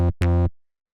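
Two harsh, buzzy saw-wave synth plucks through an amp, a short one then a longer one, heavily distorted and rich in overtones, cutting off into silence.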